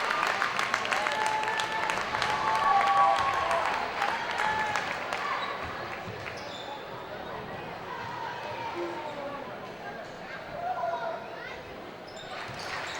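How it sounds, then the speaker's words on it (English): A basketball crowd gives an ovation during a high school game, with clapping and cheering that swell early and then thin out, mixed with sneaker squeaks and arena noise, while a commentator talks over it. "Dylan Donovan fouls out of the game and for a well-deserved ovation by the Advance crowd."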